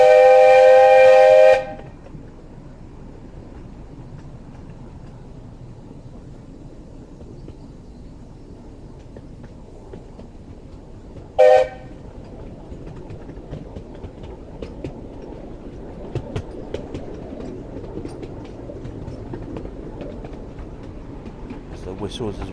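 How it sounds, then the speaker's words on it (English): A heritage railway train nearing a tunnel gives a loud whistle blast, then rolls on with a steady rumble and wheel clatter, and sounds a brief second whistle partway through. "So whistles as we head into the tunnel."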